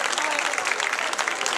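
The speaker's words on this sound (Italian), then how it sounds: "facciamogli un grande applauso a sta ragazza" Outdoor crowd at a 2022 Carro Votivo festival applauds a young woman performer, a brisk, dense round of clapping with voices mixed in.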